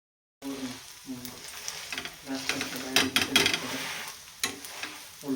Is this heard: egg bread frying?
yes